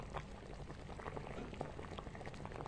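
Water at a gentle simmer bubbles steadily, a dense, continuous stream of soft pops and gurgles, close and moderately quiet, with no voices.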